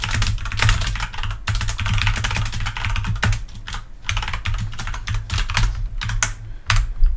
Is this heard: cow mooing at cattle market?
no